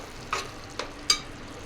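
Spoon stirring chili powder into a gongura and raw prawn curry in a pan, three distinct scraping strokes spaced apart, close and fairly soft, with no talking.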